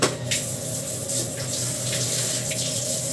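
Water runs steadily from a tap while a dog is bathed, a continuous splashing rush with a few sharper splashes and no talking.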